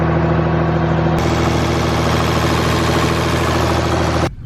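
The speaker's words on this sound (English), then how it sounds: "Starts like a true older John Deere." An older John Deere skid steer engine fires up and settles into a steady, loud diesel idle close by, running continuously for about four seconds before cutting off abruptly near the end.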